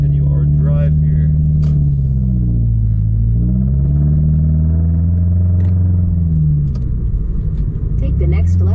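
A modified Subaru car driven on a road, its engine and exhaust producing a loud steady rumbling drone from inside the cabin, with pitch rising and falling with speed.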